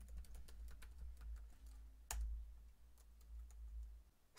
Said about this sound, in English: In our case, we'll type not in list.